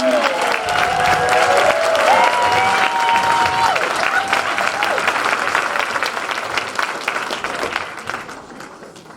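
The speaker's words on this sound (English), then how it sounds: "you can clap for me" An audience at a St. Patrick's Day celebration applauds loudly and continuously, a dense wash of clapping that slowly thins toward the end, with a little talk underneath.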